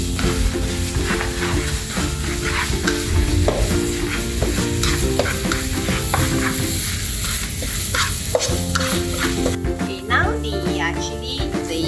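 Chili rempah paste for chilli crab frying and being stirred in a pan, a steady sizzle with repeated scraping and stirring clatter throughout, close and continuous with faint background noise.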